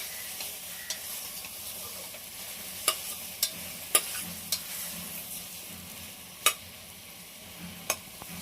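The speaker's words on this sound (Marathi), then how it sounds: "हे अर्धा किलो टोमॅटो घेतलेत मी. छान आपण बटरमध्ये परतून घेतोय." Half a kilo of tomatoes sautés in butter alongside beetroot, garlic and a small chili for tomato soup, giving a soft, steady sizzle with a few sharp utensil clinks and scrapes against the pan.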